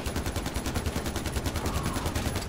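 Rapid automatic gunfire from the video game Far Cry 4 rattles continuously in dense, even bursts, loud and close, with no talk over it.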